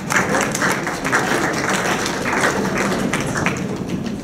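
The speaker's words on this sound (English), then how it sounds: "Even applause for that." A small audience at a talk on kindness applauds, with a close, moderately loud patter of clapping hands in which individual claps and taps stand out, continuing steadily with no voices.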